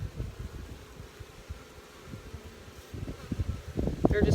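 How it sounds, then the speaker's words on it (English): Honey bees buzz at an open, queenless hive, quiet and close. The soft buzzing drones and flutters unevenly and swells toward the end, with no talk over it. "It is neat how these little soldier bees just line up."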